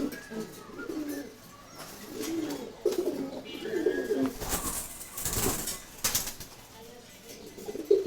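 Pigeons kept as friendly pets coo and rustle near and far, with bursts of wing flapping around the middle of the scene over steady background noise.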